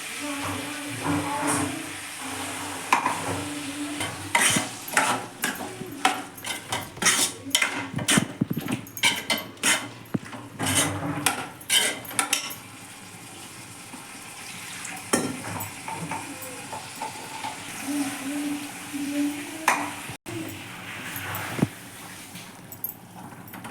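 A ground masala is stirred into a radish and tamarind curry with dense, rapid spoon scrapes and clatter against the pot over a sizzle, easing into quieter stirring and a low simmer later on.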